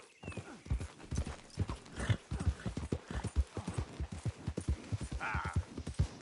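Horse hooves galloping in Red Dead Redemption 2, a fast rhythmic clip-clop close and clear, with snorting breaths and a brief whinny near the end.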